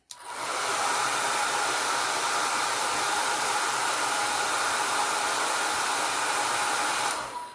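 A hair dryer blowing on alcohol ink artwork, switching on abruptly and running as a loud, steady, close whoosh for about seven seconds before cutting off.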